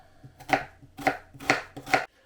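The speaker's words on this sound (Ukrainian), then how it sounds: "І для початку наріжемо цибулю." A knife chops an onion on a cutting board in a home kitchen, four crisp, evenly spaced strikes sounding close and loud against near silence.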